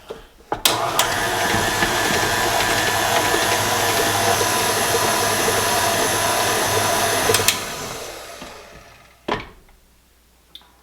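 An electric stand mixer churns potato cake batter in a bowl for about seven seconds with a steady whirring drone, then stops, followed by a brief clatter and quiet.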